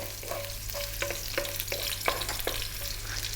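Fresh ginger dropped into very hot oil in a wok for a vegetable stir-fry, giving a steady crackling sizzle with repeated sharp spatters and stirring scrapes, loud and close with no talking.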